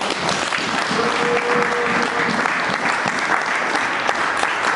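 A church congregation applauds during a French-language sermon, dense sustained clapping filling the room from start to finish.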